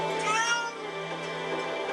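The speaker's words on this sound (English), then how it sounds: "Cat!" A cat in the video game Okami meows in a drawn-out, wavering cry over quiet game background sound, fairly soft and alone for about two seconds.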